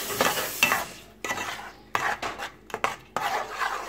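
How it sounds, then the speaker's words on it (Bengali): Semolina and sugar halwa is stirred in a pan, with a spoon scraping and clinking against the metal in close, irregular strokes and a soft sizzle underneath. "এখন আমরা এটাকে অনবরত নাড়তে থাকব।"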